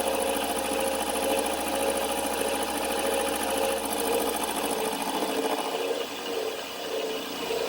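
A vertical mill machining a part gives a steady, continuous whirring hum with a sustained tonal whine throughout, unchanging and without talk.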